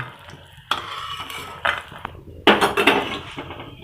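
Bori lentil dumplings fry in oil in a pan and are lifted out with a metal utensil, giving close scraping and stirring bursts and clinks over a soft sizzle, with no talking.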